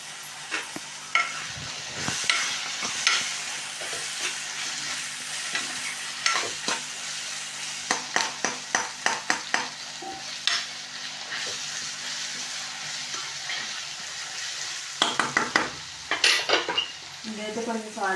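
Onions fry in a pan with a constant sizzle while a utensil stirs them, giving repeated scraping taps against the pan in rhythmic bursts, close and fairly loud, with salt being added.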